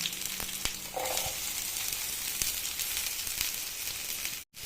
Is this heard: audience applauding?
no